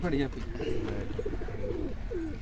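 A pigeon held in the hand coos in soft, repeated rolling phrases over a continuous background murmur, close by, with a brief louder sound at the start.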